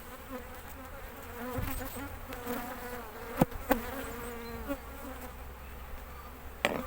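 Honeybees hum at a hive being expanded to a third box, a soft, continuous buzz close by, broken by a few sharp clicks and knocks of hive handling.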